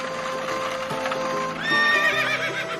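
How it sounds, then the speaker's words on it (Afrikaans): A horse pulling a wagon neighs in a long rising whinny over steady clip-clopping hooves, close and clear, with no voices. "Net toe ry 'n buurvrou op haar perd en wa verby."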